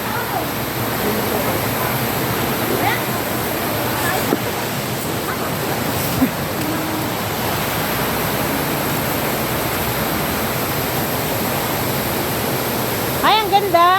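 Water pouring steadily at the foot of a waterfall in hilly farmland, a loud continuous rush filling the whole clip, with people talking and exclaiming faintly over it.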